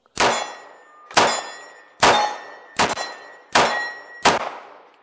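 Pistol shots from an FNS-9C compact 9mm ring steel circle gong targets: six sharp cracks about a second apart, each followed by a bright metallic clang that rings out and decays, loud and close with no talk.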